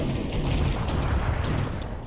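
Gunfire in the video game Blair Witch, loud and dense, a continuous rumbling barrage of shots with no pauses.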